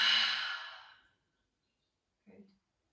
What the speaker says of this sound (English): Big exhale.